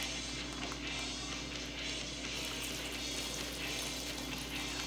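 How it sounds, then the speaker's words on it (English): Brine marinade pours into a plastic bag holding a tri-tip beef roast, a soft, continuous liquid trickle and slosh that stays faint and close for a few seconds. "Pour in our brine mixture."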